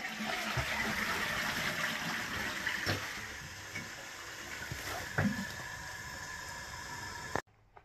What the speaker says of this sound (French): Et là on va tirer le chasse d'eau.